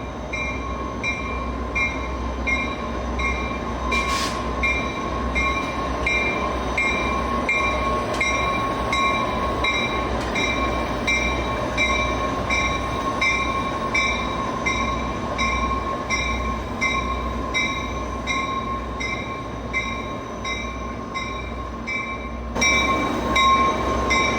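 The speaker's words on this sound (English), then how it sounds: "there goes our engines in the other direction" Rumbling Amtrak train locomotives idle and roll away at Denver Union Station with steady low throbbing and tonal hum, a loud continuous rail sound with a brief squeal near the end.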